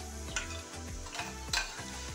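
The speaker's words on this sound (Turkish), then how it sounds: "patateslerimiz de kızarıyor gördüğünüz gibi" Steady sizzle of potatoes frying in a small pan with intermittent scraping and stirring clatters, a few sharper clinks standing out, no voices.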